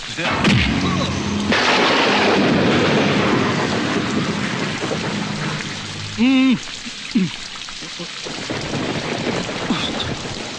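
Heavy pouring rain makes a loud, constant hiss with deep rumbles of thunder rolling through it, and voices speak briefly over the downpour.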